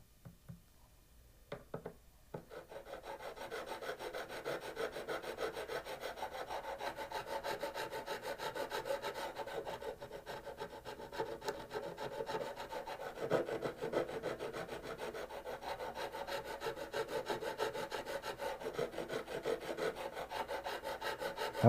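A metal file rasps along the frets of a G&L Legacy electric guitar during fret leveling, a steady close scraping in continuous back-and-forth strokes for about twenty seconds with no talking.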